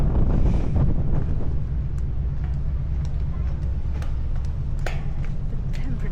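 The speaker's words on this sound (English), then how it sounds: "It got super windy and it's quite fresh-ish." Strong wind buffets the open deck of a Smyril Line ferry heading out from Denmark toward Iceland, a steady low roar with gusty rumble throughout and no talk.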